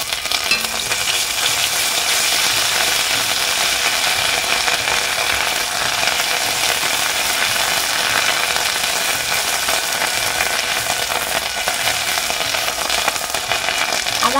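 Ground ginger paste and turmeric fry in hot oil with whole spices and a bay leaf, a loud, steady sizzle with scraping stirring running unbroken throughout.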